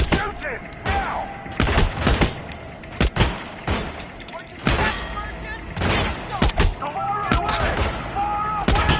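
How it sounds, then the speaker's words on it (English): Video game gunfire from Hitman on PS4: sharp, repeated shots in uneven bursts, loud and close, mixed with someone shouting commands. "Shoot him! That's it! Let loose on him! Get him! Shoot him! Now!"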